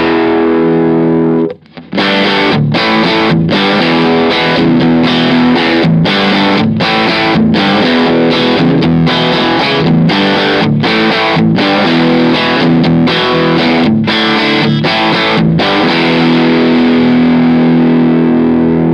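Distorted electric guitar lead played through a single-channel amp with the bass cut and mids pushed for a traditional lead boost, loud and continuous with rhythmic chord stabs throughout, no talking.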